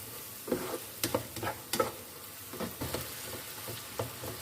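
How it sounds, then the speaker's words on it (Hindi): A fish masala with turmeric, salt and chili fries in a pan. Soft sizzling sits under repeated spoon stirs and scrapes that come in uneven bursts, close and moderately loud. "मसाले को हम अच्छी तरह से भून लेते हैं।"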